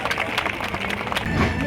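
An audience claps for the performers at a Ramlila stage show in Sector 48, Chandigarh, a steady patter of many hands with a murmur of crowd noise, moderately loud and close.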